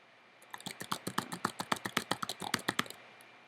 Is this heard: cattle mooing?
no